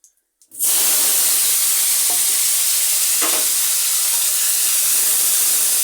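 Potato pieces coated with turmeric and salt drop into hot oil with bay leaves and cumin, setting off a sudden loud, steady sizzle and hiss that continues unbroken, no talking.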